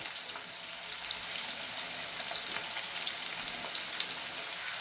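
Potato pieces fry in a pan for a vegetarian cabbage curry, giving off a steady, soft crackling sizzle with scattered pops, fairly quiet and continuous with no talking.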